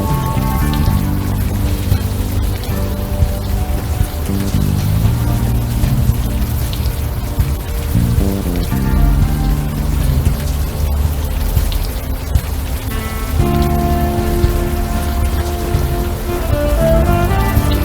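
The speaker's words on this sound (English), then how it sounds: "Still raining." Steady rain falls through a night scene in the adventure game Unavowed, a constant hiss of drops beneath layered, tonal game music that plays throughout.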